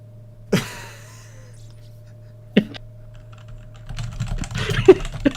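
A computer keyboard clicks once, then again a couple of seconds later, before a quicker run of close, crisp typing, with a faint steady hum underneath.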